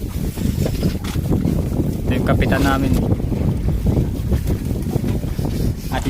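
Strong wind blowing over a boat at sea in rough, wavy water, with a steady roar and buffeting on the microphone throughout while someone talks over it.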